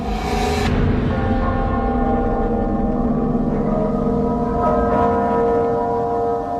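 Church bells ring in a steady, sustained peal, a dense mass of resonant tones that hang and overlap throughout, with a brighter strike near the start.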